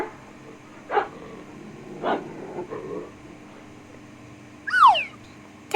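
A dog barks in three short bursts about a second apart, moderately loud over a quiet background, followed near the end by a brief higher yelp.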